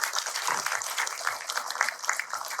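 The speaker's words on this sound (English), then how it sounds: "Give a round of applause for the panelists." An audience applauds the panelists after a panel discussion at a film screening, a short, steady patter of many hands clapping at moderate loudness.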